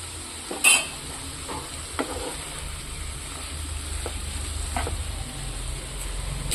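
Drumstick theeyal curry being stirred in a pan, a low steady simmer-sizzle with a few sharp utensil taps against the vessel, close by with no speech.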